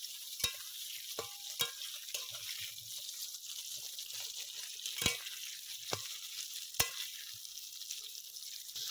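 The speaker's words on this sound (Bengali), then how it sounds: "এদিকে কাঁকরোলটা ভাজা হচ্ছে" Slices of kakrol (spiny gourd) fry in hot oil with salt and turmeric, giving a steady close hiss broken by sharp clicks and scrapes from a stirring spoon against the pan.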